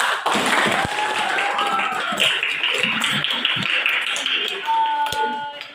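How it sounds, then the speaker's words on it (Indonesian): Applause from a school class of phase E2 students, a dense patter of many hands clapping steadily and fairly close throughout, with some voices mixed in. "Jadi aplaus untuk E2."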